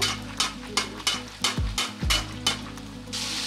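KFC-style spicy crispy chicken fries in hot oil with a steady sizzle, punctuated by regular close clanks and scrapes of a utensil against the pan.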